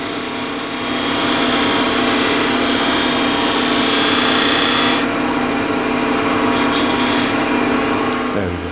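A 3/4 inch continental spindle gouge cutting spinning wood on a lathe gives a steady, loud rasping hiss over the hum of the motor, with the tone shifting partway through.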